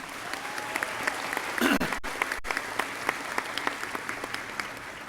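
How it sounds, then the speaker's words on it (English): A crowd at a high school commencement applauds with steady, dense clapping and a few sharper individual claps standing out. "Give her a round of applause for what she does, right?"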